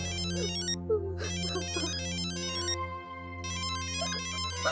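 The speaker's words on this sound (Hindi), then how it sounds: "घर से फोन है।" A telephone ringtone plays in repeated electronic bursts with short gaps between them, clear and close, over a faint steady background hum.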